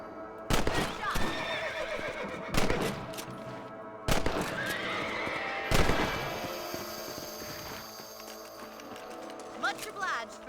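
Horses whinny in the Western video game Red Dead Redemption, several loud neighs rising over hoofbeats, bursts of gunfire and in-game talk.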